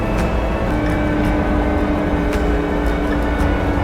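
A motor grader engine labours at low RPM as it slows on a grade, a loud, steady rumbling drone with a faint tonal whine, up close and without talk.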